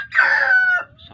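Chickens on a farm give a single short crow-like call, fairly close and loud, trailing off into faint background clucking.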